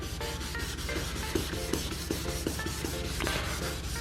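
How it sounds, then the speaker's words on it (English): Steady, rhythmic wet sanding of a car headlight with sandpaper, close and continuous, with a wet, gritty scrape on each stroke. "And you're gonna go ahead and start sanding here."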